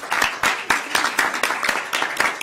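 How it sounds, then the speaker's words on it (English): A small group at a joint committee worksession claps in a brief round of applause, separate hand claps landing close together at a steady pace, fairly close and moderately loud, with no voices over it. "So I think it's appropriate to give you a round of applause."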